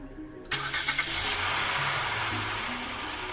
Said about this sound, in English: now crank it up and pump the brakes